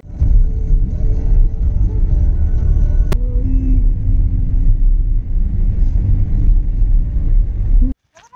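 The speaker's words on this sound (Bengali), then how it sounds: "ট্রেন গাড়ি যাচ্ছে" A train passes close by on a railway line near Asansol, a loud, steady low rumble that continues for several seconds before cutting off abruptly near the end.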